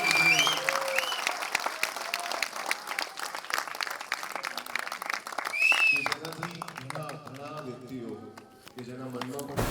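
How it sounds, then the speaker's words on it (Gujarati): Audience applause at a Gujarati film premiere, a sustained wash of clapping from a crowd that swells and continues throughout, with a presenter's amplified voice speaking over it. "બહુ જ બધી તાળીઓ સાથે આ બંને ભાઈઓને આપણે વધાવીએ"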